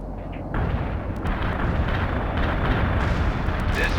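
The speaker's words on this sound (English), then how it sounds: "Artillery firing." A heavy artillery barrage in the strategy game World in Conflict opens with a low rumble, then swells into sustained, loud booming and crackling blasts that continue steadily to the end.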